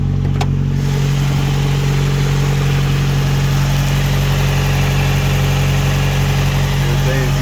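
A turbocharged Honda engine idles after a cold start, a steady, close, continuous hum with a faint whine on top and no change in pace throughout.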